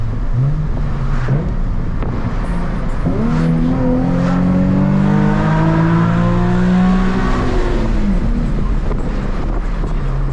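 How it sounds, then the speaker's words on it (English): Heard from inside the cabin of a Nissan 350Z, a loud car engine revs and climbs in pitch through several gear shifts, droning steadily throughout. "This car's actually like really loud on the inside"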